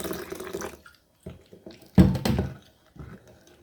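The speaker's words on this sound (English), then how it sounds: "Gradually we are adding the water" Water poured gradually into a batter of urad lentil flour and salt, in several short wet splashing bursts separated by brief pauses, with the loudest pour near the middle.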